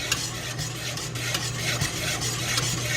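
Milk powder being stirred into milk, a close continuous scraping and swishing of a spoon against the pot with rhythmic strokes over a low steady hum.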